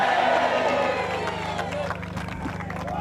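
Speedway fans at Foxhall Stadium cheer and clap as the Ipswich Witches lift the Premiership trophy, a broad crowd roar under a talking voice.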